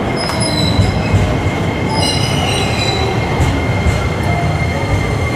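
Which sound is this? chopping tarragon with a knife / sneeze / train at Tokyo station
train at Tokyo station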